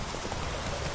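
Brief, steady clip-clop of hooves as the horse Roach runs in a video game, a dense patter of footfalls over a rainy, wet backdrop.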